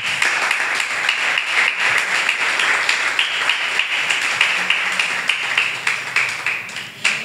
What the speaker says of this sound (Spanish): Bríndale fuerte el aplauso.